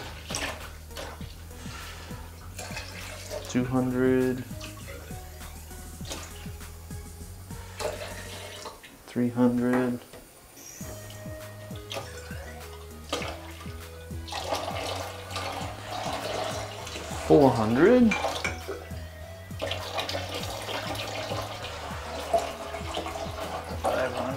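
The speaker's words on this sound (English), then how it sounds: "Rinse out the developer beaker, or the graduate, I should say." Tap water runs and splashes while a darkroom developer graduate is rinsed out, a steady wash lasting through the clip beneath a background bed of other sound and faint voices.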